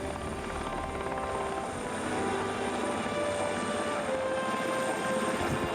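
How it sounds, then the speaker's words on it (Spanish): A helicopter drones steadily with a rapid rotor chop and whining engine hum, heard from inside or close by, continuous throughout. "Mientras el helicóptero se desplazaba en el aire"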